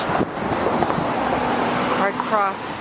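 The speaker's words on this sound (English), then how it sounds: "you're not going to hear this very well because of all the wind" Strong wind buffets the microphone outdoors on a town bridge, a steady broadband roar that stays loud throughout, with faint voices and what may be passing traffic underneath.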